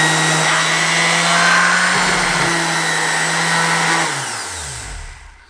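Random orbital sander running loudly and close, a steady high whirring drone that holds for several seconds and then spins down as the motor is switched off.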